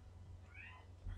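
A pet cat lets out a short meowing yowl, faint and fairly brief, rising over a low steady hum in the background.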